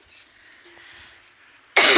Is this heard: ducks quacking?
no